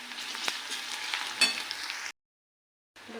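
Garlic paste fries with browned onion for a spicy cauliflower curry, a soft steady sizzle with a couple of utensil scrapes, cutting to silence partway before resuming briefly.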